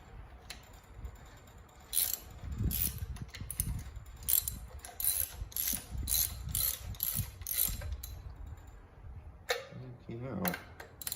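Repeated metallic ratcheting clicks from a socket wrench working a stubborn bolt on a late-1940s Clinton engine, in uneven bursts of clatter over several seconds with faint background talk.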